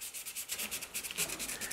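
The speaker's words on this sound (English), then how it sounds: "I'm using 3M's system of sanding sponges" Steady, rhythmic sanding with a 3M sanding sponge on filler in a Porsche 911 rear wheel house, quick back-and-forth rasping strokes repeating close up with no talk.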